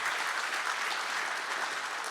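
Audience applause at a university building naming ceremony, a dense, steady wash of clapping from a sizable crowd, sustained and even throughout.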